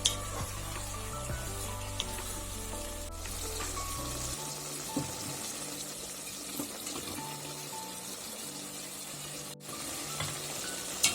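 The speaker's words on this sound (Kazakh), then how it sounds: "Бес 7 минуттан кейін жуамызды, сәбізімізді қосып, қуырып аламыз." Chopped onions and carrots fry in a pan with meat, a continuous close sizzle that carries on throughout, joined by an occasional scrape or clink and a low tonal hum early on, with no voices.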